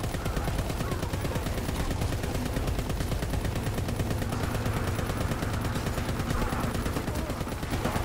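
Sustained automatic gunfire in Call of Duty zombies mode, a steady unbroken stream of rapid shots at constant loudness over the whole stretch, with no pause.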